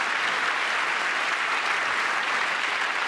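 Applause fills a joint session of Congress, a dense, loud, continuous roar of many hands clapping at once with no break.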